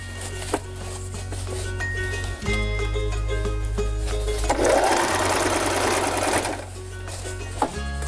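A sewing machine stitches old denim jeans into a vest, running in short bursts and then one longer, louder stretch of rapid mechanical chatter up close.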